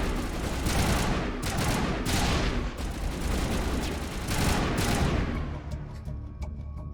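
Sustained gunfire in a Mass Effect video game firefight, a loud, dense, continuous barrage of overlapping shots and bursts lasting the whole stretch, with no talk.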